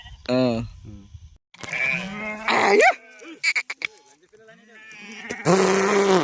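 Sheep bleat loudly several times in wavering, nasal cries while being washed, with people talking between the calls.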